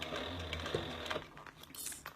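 A sewing machine stitching a fabric bag in the round, a steady rapid mechanical whir with small clicks and shifts, close and continuous with no talking.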